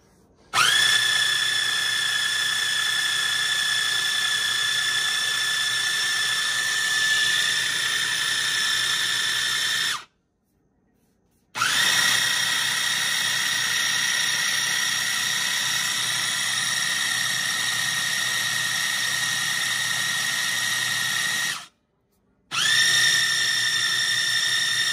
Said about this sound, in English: This is just a little mini food processor.